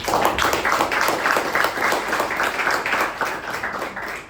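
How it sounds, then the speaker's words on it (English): A crowd applauds steadily, dense clapping sustained for several seconds before starting to taper off. "So with the great session, let's give a round of applause to Sharanye."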